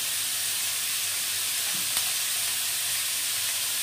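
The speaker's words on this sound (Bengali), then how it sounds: "পেঁয়াজটা একটু ভাজা ভাজা হয়ে গিয়েছে, এখন আমি তরকারিগুলো দিয়ে দিচ্ছি।" Vegetables sizzle steadily in a pan of fried onions: capsicum, carrot, peas and chilli with salt, a constant bright hiss with no voices.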